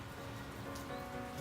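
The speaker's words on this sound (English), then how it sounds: "the rain is kind of going on in the background" Steady rain falls outside, a soft, continuous patter heard faintly in the background throughout, with no voices.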